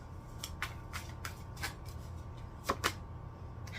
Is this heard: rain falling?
no